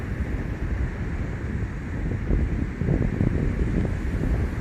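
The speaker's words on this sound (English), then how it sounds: "We have a little bit of wind" Steady wind rushing across a quiet beach in Rethymno, Crete in December, a continuous low blustery roar with gusts that swell toward the end and faint surf beneath, no voices.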